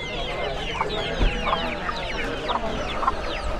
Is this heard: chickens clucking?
yes